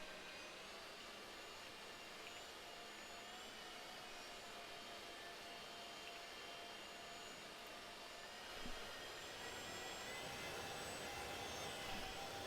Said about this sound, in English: See how the engine shutdown noises are.